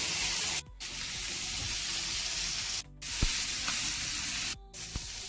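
Onions and tomato paste fry in a pan for a Tamil fried sardine curry, a loud, steady close sizzle that briefly stops three times as the pan is stirred or shifted.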